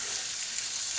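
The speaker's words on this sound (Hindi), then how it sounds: "आलू को अच्छे से भून लेंगे" Potatoes frying in a pan with green chillies and garam masala, a dense continuous sizzle with light stirring, steady and close, no voices.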